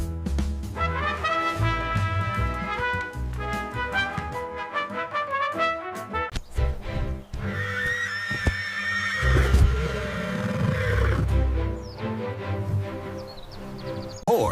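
A horse whinnies over background music, with several rising and falling neighs spread across a long stretch, fairly loud and close, alongside a low rhythmic thumping.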